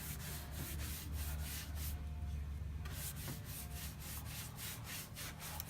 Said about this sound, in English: I'm just gonna wax here for a second just to show you